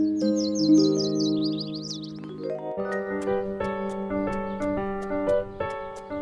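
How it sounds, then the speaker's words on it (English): Animated cartoon birds in a forest sing a short run of quick high chirps, followed by a gentle melodic musical phrase that continues to the end. "Birds sang sweet songs."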